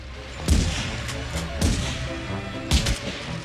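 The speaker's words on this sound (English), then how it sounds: "Yes, shoot, my hapless friend, shoot! Fire everything you've got!" Several booming weapon blasts fire in quick bursts, deep and punchy, some doubled, with rumbling in between.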